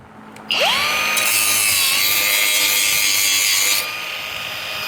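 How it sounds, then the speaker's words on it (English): An angle grinder cuts a small piece of metal off a rear rack part before welding: it spins up sharply, holds a loud, steady high whine for about three seconds, then winds down. "let me again grind that little piece off so I could actually weld right there"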